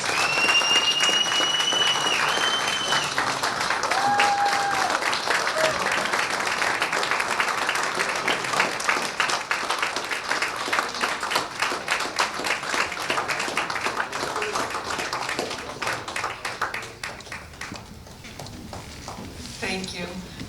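Dinner guests at a conference banquet give sustained, dense applause that carries on for about twenty seconds, gradually thinning toward the end, with a few faint whistles early on.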